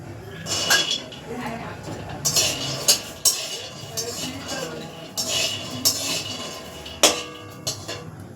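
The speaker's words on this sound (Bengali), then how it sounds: "এই বাদামগুলো আমি ভেজে নেব" Peanuts tumble and rattle in a dry pan as they are roasted, producing close, uneven bursts of clinking and scraping with short gaps, while a person talks.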